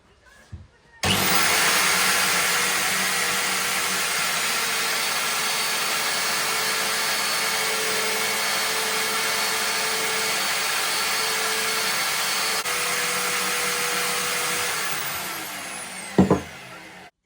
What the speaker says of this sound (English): Going to give it a couple more buffs on the wheel